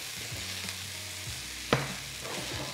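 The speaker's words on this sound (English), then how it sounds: "Now, I'm adding in a tablespoon of flour and stirring that around." A tablespoon of flour is stirred into a hot, sizzling pan with feta cheese: a steady frying hiss runs under scraping stirs, with one sharp knock of the spoon against the pan midway.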